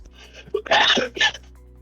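A single sneeze up close, a quick intake of breath followed by a sharp burst, then quiet.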